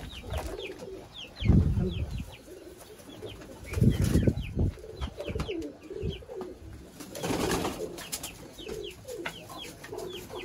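Sialkoti breeder pigeons coo in low, throaty bursts that swell and fade, with softer chirps and light rustling between them.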